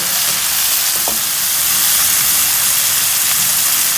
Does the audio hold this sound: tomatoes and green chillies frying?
yes